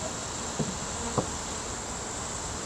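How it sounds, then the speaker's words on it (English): Steady honeybee buzzing hums throughout at low volume, with a couple of soft knocks partway through as bees are shaken off hive frames into a box. "Shake all these bees off all these frames in this box."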